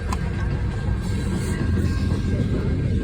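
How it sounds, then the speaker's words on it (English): A long train rolls by nearby, a steady low rumble of railroad cars with no voices over it. "That's a long train."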